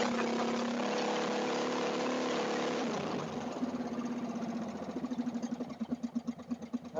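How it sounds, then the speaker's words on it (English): A racing lawnmower engine idles steadily with a lean, slightly uneven running note, then picks up as it is accelerated, the revs rising into a pulsing, louder roar toward the end, heard close up with no talking. "at the moment, it's idling nicely, the mixture's about where I want it. Now, if I accelerate a little bit,"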